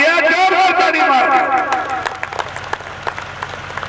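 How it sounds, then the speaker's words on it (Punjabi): At a political rally in Goraya, Punjab, a speaker's amplified voice gives way to a burst of crowd clapping, scattered and fairly close, rising over the last couple of seconds. "ਜੋਰ ਜੋਰ ਤਾੜੀ ਮਾਰ"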